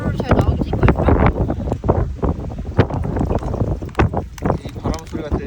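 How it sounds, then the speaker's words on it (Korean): Strong wind buffets the microphone at a cherry blossom campsite, gusting roughly and loudly throughout while people talk close by. "이 바람 소리가 들려야 되는데."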